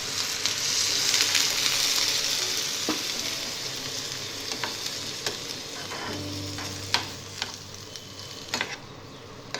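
Ivy gourd pieces frying in a pan hiss steadily as water is added, with a close sizzle and scattered stirring clicks and scrapes.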